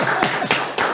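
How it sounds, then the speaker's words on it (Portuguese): Three sharp, separate handclaps from an audience at a Brazilian talk show, spaced evenly through one second, loud and near with no speech over them. "Bravo, gente, pode aplaudir."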